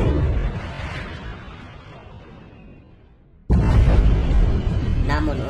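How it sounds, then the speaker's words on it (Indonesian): A bomb explodes in an action film, a sudden loud blast cutting in after a fading rumble and continuing as a heavy roar with debris crackle, with a voice talking over it. "Dan bom pun dijatuhkan."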